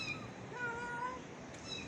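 A mother cat calls out to her kittens with a single short, fairly faint meow close by, followed by quiet background noise.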